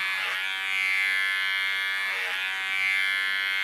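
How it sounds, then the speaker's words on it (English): An electric hair clipper cutting a new line into hair during a bob haircut, a steady close buzz with two brief dips as the blades pass through the hair. "This I do with my clipper, leaving the length on top as long as I can"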